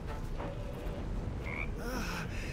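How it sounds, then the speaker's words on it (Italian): Frog creature croaking in the video game Baldur's Gate III, a few wobbly gurgling croaks over a busy game soundscape at moderate loudness, with no speech. "La rana è frastornata."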